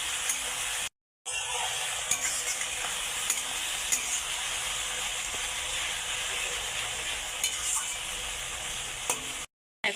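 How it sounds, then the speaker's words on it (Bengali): Spices fry in a pan as the base for a mutton curry, a steady hissing sizzle with light crackles and stirring scrapes throughout, briefly cut off twice, with no clear talking. "সুন্দর করে ভাজা হয়ে যাচ্ছে"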